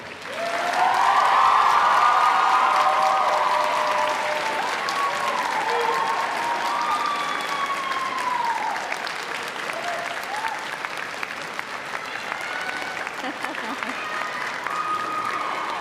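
Graduating class and crowd applauding at a university convocation ceremony in a large hall, sustained loud clapping that swells early, then gradually thins over sixteen seconds, with faint cheers mixed in.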